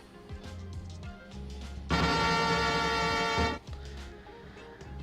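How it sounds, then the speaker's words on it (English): A single loud, blaring air horn blast cuts in for about a second and a half, bright and brassy, between stretches of quieter background sound. "I had already hit the air horn."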